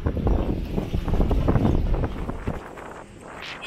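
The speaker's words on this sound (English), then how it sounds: "Wow, it is windy." Strong wind buffets the microphone on the open deck of the Carnival Pride cruise ship in the Norwegian Fjords, a loud continuous roar that surges and eases for a few seconds.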